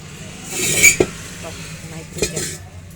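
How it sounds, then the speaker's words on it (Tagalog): A metal cover comes off a SuperKalan gas burner with a couple of sharp clinks and light metallic rattles, while a voice talks quietly in the background. "tinatanggal po yung takip na yan, natanggal na"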